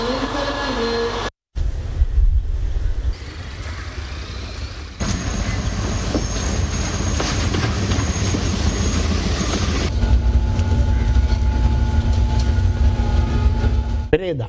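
Crowded commuter trains rumbling along the tracks with steady wheel noise, a thin squeal and rattling carriages, loud and continuous after a brief cut.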